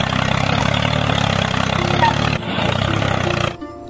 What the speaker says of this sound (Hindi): अब हम खेत को ट्रैक्टर से जोतेंगे।